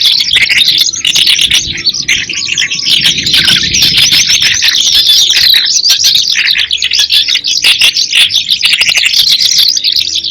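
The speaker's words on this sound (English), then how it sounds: "Bird number 14, Eurasian skylark." A Eurasian skylark pours out a loud, continuous torrent of rapid high trills and chirps with no breaks, dense and close throughout.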